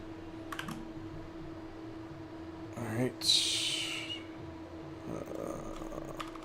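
Quiet computer keyboard typing comes in short bursts of soft key clicks, with one louder clatter midway, set against low background hum while a person talks nearby.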